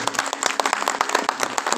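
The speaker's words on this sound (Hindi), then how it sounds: "एक बार उनके लिए तालियां बजाएं" An audience applauding in honour of G. D. Madgulkar at a Geet Ramayan storytelling event, a brief burst of dense, lively clapping from a crowd close by.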